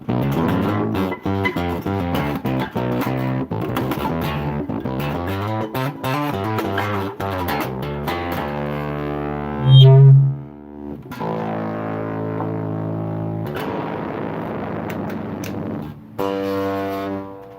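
Growly, distorted bass guitar through a humbucker pickup, played in choppy, rhythmic runs of notes, loud and close, with a brief louder low swell in the middle.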